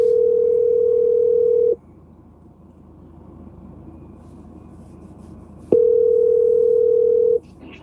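Telephone dial tone on a phone line, a steady loud tone sounding for about two seconds, breaking into a low hiss with faint rumble, then returning for another two-second stretch.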